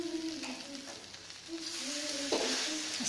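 Garlic bread toasts quietly on a hot tawa, giving a soft, continuous sizzle with light scraping and stirring touches close by.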